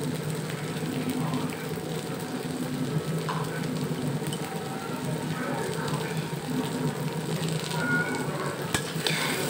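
Bagda prawns seasoned with salt and turmeric sizzling in hot oil in a pan, a loud steady close frying hiss with faint crackles throughout, no talking.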